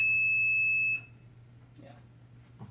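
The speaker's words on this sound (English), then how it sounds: "Yeah, that's my buzzer." A buzzer on a home alarm project gives one loud, steady electronic tone for about a second, then cuts off abruptly, leaving a low hum and faint sounds from people nearby.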